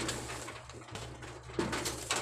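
Pet pigeons or doves coo softly and repeatedly at close range during a bath, the low rolling calls coming in short bursts over faint background noise.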